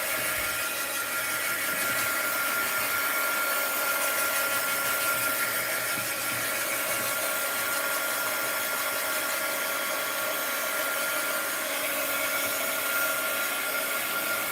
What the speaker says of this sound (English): Oh, heat gun alert.